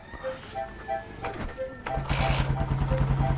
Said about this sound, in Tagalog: Then, panda rin natin yung engine saglit.